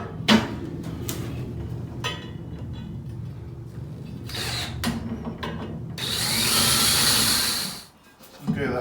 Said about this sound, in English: Using a little bit larger of a drill bit to make a countersink for the screw, just slightly.